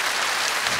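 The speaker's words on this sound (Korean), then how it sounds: "수고하신 분에게 박수 주시기 바랍니다" A short burst of dense applause from a TV singing contest audience, steady and fairly loud throughout.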